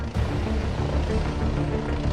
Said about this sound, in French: 20 minutes plus tard, l'hélicoptère du SAMU atterrit sur le toit de l'hôpital